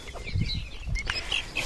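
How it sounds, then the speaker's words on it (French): Young Pekin bantam cockerel chick giving scattered short chirps and soft clucks, close by, with handling rustles and low bumps in between. "Ça, c'est bien encore un petit coq."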